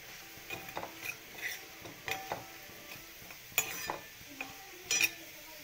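Metal utensil scraping and stirring prawns frying in a pan, with scattered clinks and soft sizzling, irregular taps spread over a few seconds.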